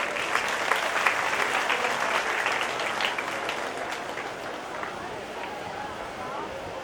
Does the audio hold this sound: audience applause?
yes